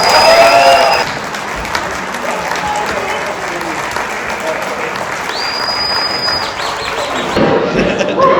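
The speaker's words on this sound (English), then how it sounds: "Give a big round of applause for Chris Stinky Hart." Applause and some cheering from an audience at an awards event, a sustained wash of clapping from a room full of people, with voices mixed in near the end.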